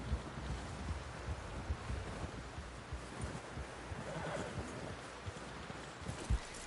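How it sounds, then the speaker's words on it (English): Horse hooves clip-clopping steadily on the ground in Red Dead Redemption 2, faint and soft, with light wind noise and no clear talking. "Someone help John down off this horse."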